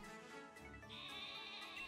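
A Wooloo sheep in the Pokemon Sword video game gives a short, faint, wavering electronic bleat, alone without talk.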